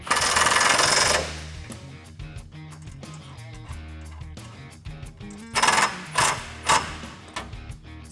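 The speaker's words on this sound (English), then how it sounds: "So after you have that threaded on there, you can tighten it down with a 17mm Jeep socket." Metallic clicking and ratcheting as a 17mm socket tightens nylon lock nuts on Smittybilt SRC Gen2 front tube doors for a Jeep Wrangler JK, with close, loud bursts at the start and near the end and steadier mechanical clatter between.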